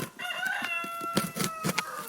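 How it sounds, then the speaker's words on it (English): A rooster crows loudly nearby, a long rising and falling call, with a few soft clucks and thumps around it. "I have a rooster wanting to compete with me"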